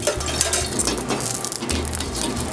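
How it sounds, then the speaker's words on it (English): A little olive oil heating in a pan for cooking mussels, giving a steady crackling sizzle with scattered bright pops and a low background hum, close by and without any talking. "So I start off with just a little bit of olive oil in the pan."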